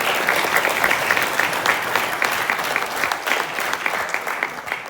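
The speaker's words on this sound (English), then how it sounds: "can we have a huge round of applause for Parag?" Sustained audience applause for a speaker at a college event at IIT Bombay, a steady dense wash of many hands clapping with no voices on top, holding at an even level throughout.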